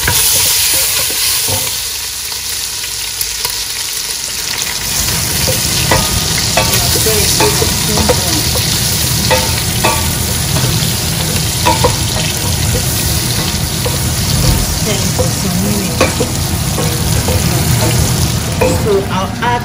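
Chicken gizzards frying in a pan for a cauliflower dish, with a loud, close, continuous sizzle and busy stirring and scraping throughout, and brief quiet moments near the start.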